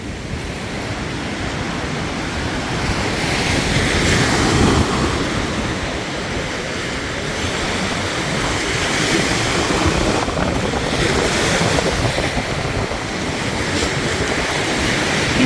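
Rough waves churn and break on a lake under strong gusting wind, a loud, sustained roar with surging swells and wind buffeting the microphone, no voices.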